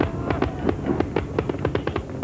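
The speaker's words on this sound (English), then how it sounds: "In Tokyo, the arrival of the year 2000 was greeted with brilliant fireworks and honking ship horns at Tokyo Bay." New Year's fireworks welcome the year 2000 over Tokyo Bay, with a dense run of sharp cracks and pops firing in quick succession, steady and moderately loud from start to finish.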